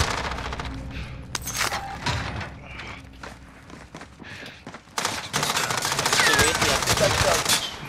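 Heavy gunfire in the Call of Duty: Modern Warfare video game, with scattered shots and bursts at first, then a sustained loud barrage of automatic fire, plus footsteps and mechanical clatter in the mix.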